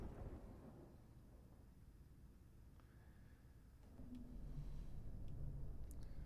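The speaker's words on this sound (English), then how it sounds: "I couldn't hear you over the lightning." Thunderstorm in the video game Deadly Premonition 2, a low continuous rumble of thunder swelling louder toward the end, with faint rain hiss in the background.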